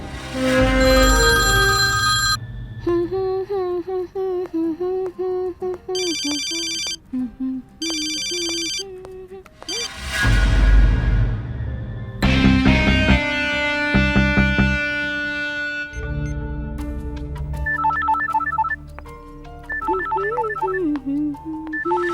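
Electronic phone ringtone chirps repeating in short bursts in a Hindi action film scene, mixed with a dramatic music score and a loud whooshing hit partway through.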